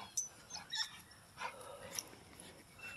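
A dog whimpers softly in short, high whines and yips, several brief cries scattered over a few seconds, faint and fairly close in a quiet room.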